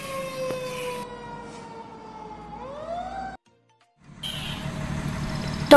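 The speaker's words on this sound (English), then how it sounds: "Fire engine." Fire engine siren wailing over traffic noise, with a steady tone and then a rising sweep before a brief silence, followed by renewed street noise.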